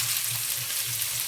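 A steady, dense sizzle of mustard seeds, cumin, chana dal, peanuts, onion, green chilli and tomato frying in hot oil, continuous and close, with a faint low pulsing hum beneath.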